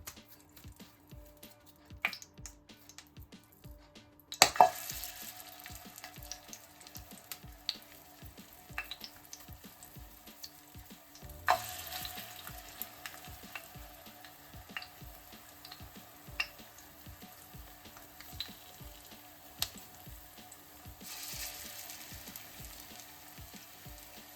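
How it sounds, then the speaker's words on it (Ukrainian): Cutlets fry in oil in a pan, sizzling and crackling softly and steadily, with scattered pops and a few louder clatters of utensils. "наливаємо в пательню олію і будемо смажити наші котлетки"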